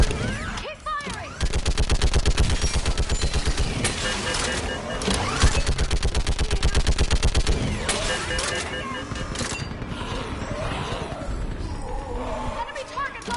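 Sustained heavy gunfire in the sci-fi shooter Mass Effect 3, dense rapid automatic bursts firing almost without pause at close range, loud and continuous, with shouted voices and battle noise mixed underneath.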